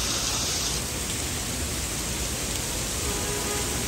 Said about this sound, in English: I have never, ever seen rain like this before in my life.